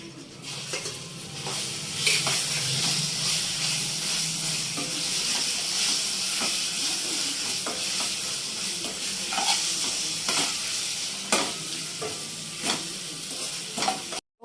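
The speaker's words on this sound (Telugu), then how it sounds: "నూరు పెట్టుకున్న రోటి పచ్చడి కూడా ఇప్పుడు దీనిలో వేసుకుందామండి," Ground okra chutney is stirred into sizzling tempering in a pan, producing a loud, steady frying hiss with repeated scraping and clinking of the spoon against the pan throughout; no talking.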